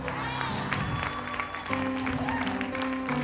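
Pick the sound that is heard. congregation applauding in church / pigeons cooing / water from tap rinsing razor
congregation applauding in church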